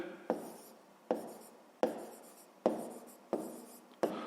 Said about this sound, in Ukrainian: Ну і так і записуємо.